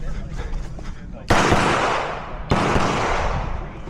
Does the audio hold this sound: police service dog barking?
no